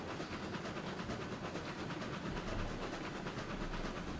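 Steam locomotives roll along a track in the RailRoads Online game, a steady mid-level rumble with faint rhythmic clatter and hiss, carrying on alone with no talk.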